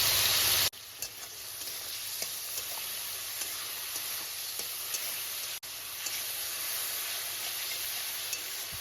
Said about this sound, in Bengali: এদিকে তেল গরম হয়ে গেছে এইবার আমি চিংড়ি মাছগুলোকে ভেজে নেব